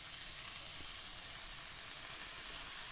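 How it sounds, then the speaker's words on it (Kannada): Grated carrot and cabbage frying for momos give off a steady, even sizzling hiss that stays close and constant throughout, with no talking over it. "ಇದು ಫ್ರೈ ಆದಮೇಲೆ ಸ್ವಲ್ಪ ಇದಕ್ಕೆ ತುರಿದಿಟ್ಕೊಂಡಿರೋಂಥ ಕ್ಯಾರೆಟ್, ನೆಕ್ಸ್ಟ್ ಕ್ಯಾಬೇಜ್."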